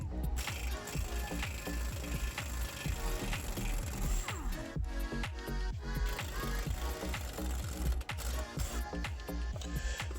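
Rapid ratcheting and mechanical clicking from a wrench loosening a 21mm brake caliper bracket bolt on a RAM 1500's rear brakes, running steadily and close throughout with dense repeated clicks.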